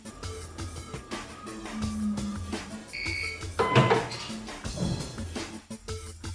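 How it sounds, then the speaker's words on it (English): End-of-cycle alarm on an ELMI CM-8S laboratory centrifuge after the rotor stops: short electronic tones sound briefly midway, faint over a busy background noise. "Once the rotor stops, you will hear the sound alarm"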